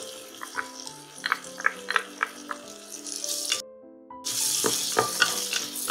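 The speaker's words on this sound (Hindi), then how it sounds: "इनको हमने एक मिनट तक लगातार चलाते हुए भूनना है तेज आंच में" Garlic cloves, ginger, green chili and onion sizzle steadily over high heat while a spoon scrapes and taps the pan in a quick irregular rhythm, with a louder burst of frying near the end.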